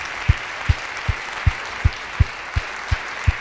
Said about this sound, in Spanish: Le damos un aplauso a nuestro Dios por todo lo que hizo